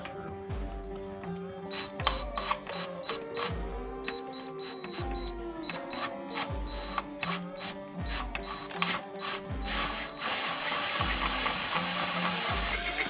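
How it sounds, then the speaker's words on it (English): A drill with a spade bit boring through plastic while fitting a luggage rack on a 2019 Vaquero motorcycle, giving repeated whirring, grinding bursts with mechanical clicks and ratcheting, steady and close throughout. "I just drill it through."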